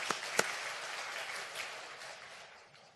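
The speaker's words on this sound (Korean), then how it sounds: "하나님께 영광 박수 올려드립니다." A church congregation at a Sunday worship service applauds, a few sharp claps at the start leading into a soft, fading patter of many hands.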